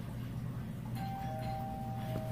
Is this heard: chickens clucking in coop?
no